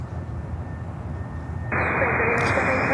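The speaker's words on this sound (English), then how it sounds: "That is fantastic, a 320 retro coming in" An Avianca Airbus A320 in retro livery comes in to land at Miami airport, a steady broadband engine roar that swells abruptly louder partway through, with a faint voice in the background.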